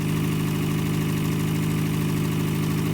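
A 1986 Toyota pickup truck engine runs at a steady idle close by, loud and even with a constant throbbing rumble and no change in pace.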